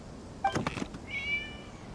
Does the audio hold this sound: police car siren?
no